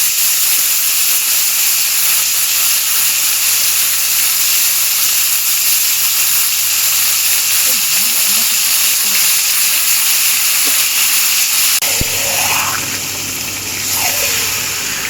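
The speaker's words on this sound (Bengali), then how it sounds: "এবারে এর মধ্যে ম্যারিনেট করা মাংসগুলো দিয়ে দেব।" Marinated chicken pieces sizzle in hot oil seasoned with bay leaf, a steady loud hiss and crackle running throughout with no talking.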